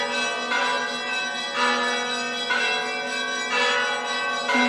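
Church bells ring out from the bell tower at the Kiev Lavra monastery, a series of bright, sustained metallic strikes every second or so, each with a long shimmering decay, heard clearly with no voices.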